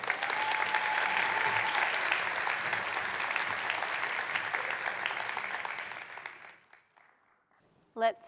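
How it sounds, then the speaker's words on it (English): Keynote audience at a Ruby programming conference bursts into loud, sustained applause with cheering for about six seconds, then the clapping thins out and fades, leaving a brief quiet before a short close thump. "Hello, thank you for the cheers."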